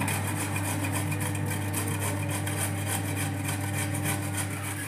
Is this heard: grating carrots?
yes